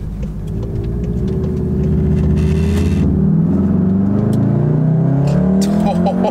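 Tuned 360-horsepower VW Golf R MK7.5 turbo engine pulling hard under acceleration, its note climbing steadily in pitch across a long run, loud and close from inside the car, with a voice talking over it.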